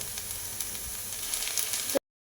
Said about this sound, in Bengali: তো শাকটা বেশ কিছুক্ষণ নাড়াচাড়া করে নেবার পর যখন এইভাবে ঝরঝরে হয়ে আসবে তখন এর মধ্যে দিয়ে দেব সরিষা তেল